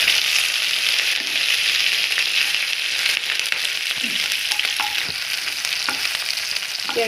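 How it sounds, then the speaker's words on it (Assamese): Onions fry in oil in a pan with a little sugar, giving a steady, close sizzle with occasional stirring scrapes and crackles throughout, and no talking. "এতিয়া এইখিনি অলপমান ভাজি ল'ম।"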